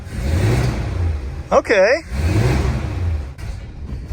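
A 1949 Studebaker Champion six-cylinder engine, running after a 12-volt conversion, idles loudly up close, its steady low rumble broken by a brief rev midway as a voice speaks over it.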